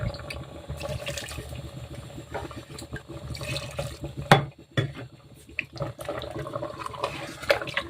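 Hot water poured into a stiff wheat dough mixture in a home kitchen, a steady splashing trickle with clinks of utensils and one sharper knock partway through.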